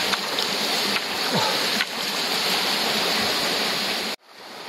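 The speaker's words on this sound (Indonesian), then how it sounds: "di depan sana ada beberapa curug yang kecil-kecil sekali, sangat pendek." Small, short waterfalls and a babbling stream at Curug Cilengkrang, a close, steady rushing splash of water that continues nearly throughout before cutting off abruptly near the end.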